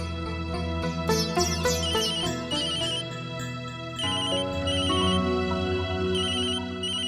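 Telephone rings with a loud, melodic electronic ringtone, repeating its tune steadily and close up for several seconds with no voices over it.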